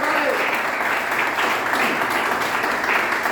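Congregation clapping together during a church service, a dense, steady wash of applause sustained evenly throughout without pauses.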